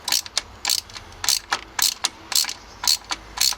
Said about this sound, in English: I've cut this boring ratchet out